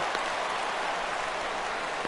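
A stadium crowd roars steadily in the baseball video game MLB The Show 17, rising for a 3-2 count as a broad, dense wash of cheering with no talk over it.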